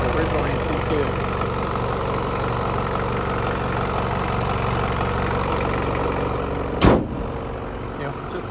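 A 1994 Toyota Land Cruiser 70 Series KZJ70 with a 1KZ-T turbo diesel idles steadily indoors in a closed building, a constant low rumble with one short louder burst near the end.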